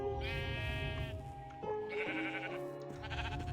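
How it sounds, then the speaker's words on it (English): Sheep in Minecraft, with the Aether mod, bleat in long, wavering calls, several overlapping one after another, loud and clear over a steady background hum. "There's a pink sheep up here."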